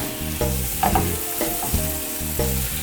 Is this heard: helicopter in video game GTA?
no